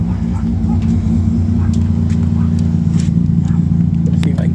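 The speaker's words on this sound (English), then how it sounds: "Listen to that thing. You guys should see this truck go." A pickup truck with a fully built turbocharged engine rumbles loud and steady at close range, a deep continuous drone that holds throughout with only slight swells.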